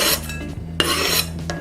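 Chopped chocolate tipped into a bowl makes a few close, light clinks and scraping rubs against the dish, in brief bursts with pauses between.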